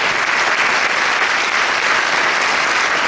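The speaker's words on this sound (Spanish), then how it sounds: "Son esos aplausos" An audience claps at a Paraguayan harp concert, a loud, even wash of many hands filling the space without a break.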